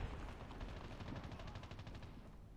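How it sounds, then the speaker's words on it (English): Rapid gunfire from Call of Duty Mobile gameplay on an ROG Phone 2, a quick automatic burst of shots, fairly faint and steady, with no talking. "Wait, someone shooting here."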